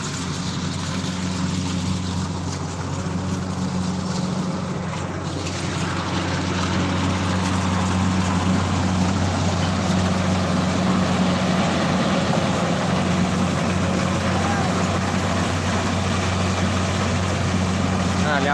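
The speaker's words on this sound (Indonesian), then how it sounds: "Nah, lihat proses untuk kalau panen pakai alat mesin." A rice harvesting machine's engine runs in a paddy field with a loud, steady, continuous drone and a constant hum that holds throughout, with voices in the background.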